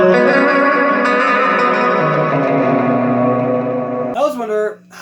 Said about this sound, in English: Here's the reverb at full.